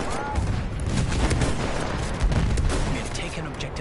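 Dense, overlapping gunfire in Battlefield 1 as soldiers shoot at an incoming bomber, a continuous loud barrage with booming low rumble throughout and no clear gaps.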